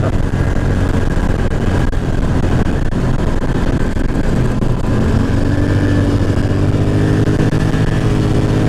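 An ATV engine drones loudly and steadily on back country roads near the hills, a continuous close rumble with shifting pitch as it drives along, no talk over it.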